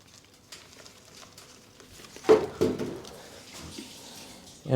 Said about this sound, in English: give it some fresh water